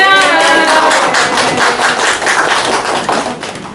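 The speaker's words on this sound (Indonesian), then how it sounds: "Tepuk tangannya." Schoolchildren at a state primary school clap their hands together, a dense, loud crowd of overlapping claps close by that gradually thins out.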